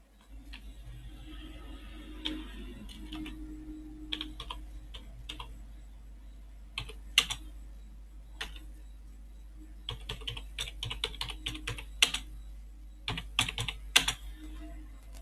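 Keys clatter on a computer keyboard as text is entered in Vim insert mode, in sparse quiet bursts with pauses and then faster, denser runs of clicks near the end, over a low steady hum.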